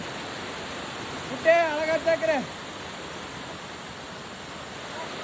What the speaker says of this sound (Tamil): ரெண்டு அருவி பாத்துக்கோ.